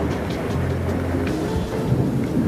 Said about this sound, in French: En ce moment, tu es en pleine tempête.